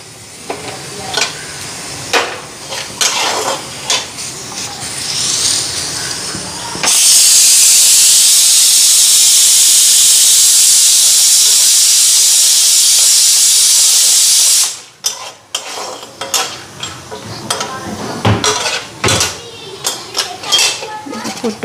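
A gas stove burner set high gives a loud, steady roaring hiss that lasts about eight seconds. Before and after it come clattering kitchen pans and utensils, with some voices in the background.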